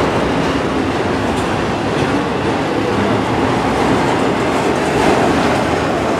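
A Norfolk Southern autorack freight train rolls past close by, a loud, continuous rumble of cars and wheels with faint clatter from the rails and no voices.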